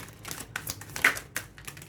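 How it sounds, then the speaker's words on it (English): Tarot cards being shuffled by hand, a few quick riffling bursts and soft slaps spaced over a couple of seconds, close and quiet with no talking. "Let's shuffle one more time."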